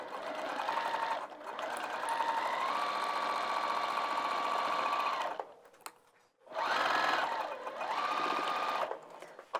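A sewing machine runs in long steady bursts as it stitches a bag just outside the sewn vinyl pockets, a close whirring drone that stops briefly and then resumes.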